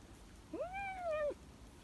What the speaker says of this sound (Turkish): Burada kedi sayısı bir hayli fazla oldu şu an.